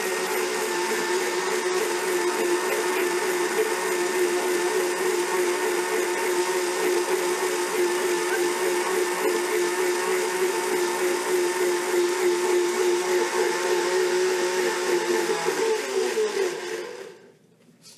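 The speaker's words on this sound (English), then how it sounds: "and throw it on the blender." An electric blender whirs loudly and steadily as it purees chickpeas, garlic and water, keeping one continuous motor drone for most of the stretch before stopping abruptly near the end.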